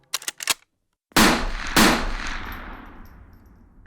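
Two loud gunshots ring out about half a second apart, each with a long decaying echo, after a few brief clicks and a moment of silence.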